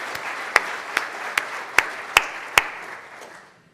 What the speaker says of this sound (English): Let's give them one more round of applause for all the work they're doing in our community.